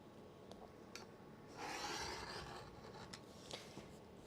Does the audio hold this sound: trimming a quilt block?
yes